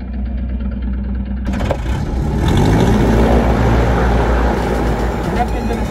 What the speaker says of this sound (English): Left engine is started.